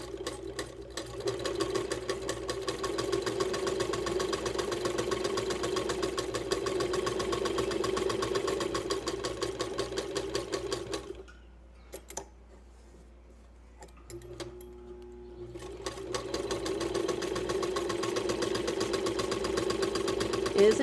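An Art Deco vintage sewing machine runs with a fast, steady mechanical whir and ticking. It stops for a few seconds of near silence, then starts up again at the same even pace, close and fairly loud.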